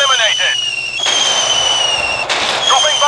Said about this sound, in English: Bomb away! Target up in flames! Dropping bombs!